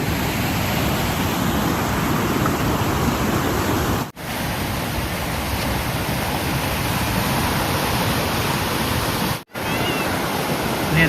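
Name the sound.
fast-flowing river water on Mount Kinabalu hike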